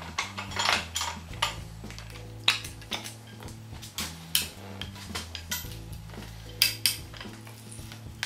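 Steel pipe being threaded by hand with a die, giving repeated metallic clicks and scraping ratchet-like clanks at irregular intervals over a low steady hum, close and fairly quiet, with no talking.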